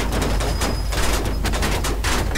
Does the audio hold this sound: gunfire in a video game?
yes